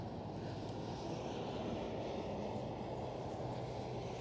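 Airliner departing from runway 18L at Amsterdam Schiphol, a steady, broad low roar of jet engines heard from a distance that holds constant throughout, with no voices.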